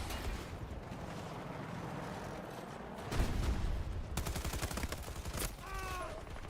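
Gunfire in the Battlefield 6 video game: dense rapid bursts of shots and crackling impacts over a constant roaring battle bed, with a louder burst in the middle and a quick rattling volley near the end.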